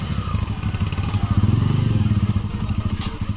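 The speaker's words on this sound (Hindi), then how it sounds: "बाइक चल रही है, स्टार्ट हो रही है, जैसे ही क्लच छोड़ रहे हैं बाइक बंद पड़ रहा है मिसिंग मार के" A Bajaj V15 motorcycle engine misfires and stalls as the clutch is released, a close, uneven chugging that pulses irregularly and sputters out.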